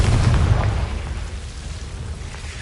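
A Confringo spell explosion in a Harry Potter video game: a single heavy boom at the start that rolls off into a low, fading rumble, loud and close.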